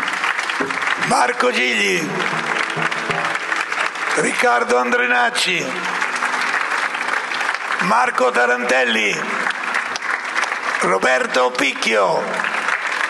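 At a Saltarello folk festival concert, an audience claps steadily for the musicians. The applause runs throughout, and a voice announces names over it in several separate bursts.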